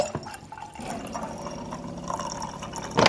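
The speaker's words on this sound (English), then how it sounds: "I do think the lemonade is a little bit too strong, so I like to put in a little bit of water." Water poured into a container of lemonade makes a steady, fairly close liquid trickle and fill sound for a few seconds, with small clinks and splashes at the end.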